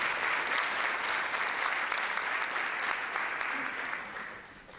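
Audience applause at a symposium session on student views of internationalisation, steady clapping from a crowd that holds evenly for several seconds before thinning and fading toward the end.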